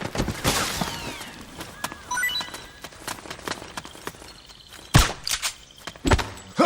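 Gunfire in Metal Gear Solid 4: Guns of the Patriots: scattered sharp shots and bursts in uneven rhythm, with the loudest cracks late on, amid other thumps and clatter.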